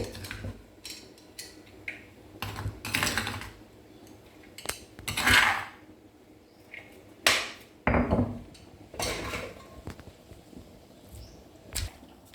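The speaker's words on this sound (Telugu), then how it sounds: "ఇలా దంచుకోవాలండి పీసెస్ చిన్నగా, రోట్లో అలా దంచుకొని" Boiled chicken pieces are pounded in a stone mortar, heavy thuds landing irregularly, some in quick bursts, close and fairly loud with gaps between.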